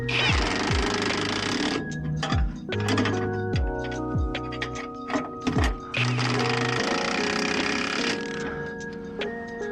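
An impact wrench tightens new shackle bolts and nuts on a hanger of an enclosed utility trailer, firing loud rapid hammering bursts that stop and start over several seconds, close by, with no talk.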